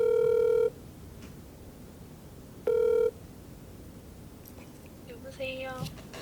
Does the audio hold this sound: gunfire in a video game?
no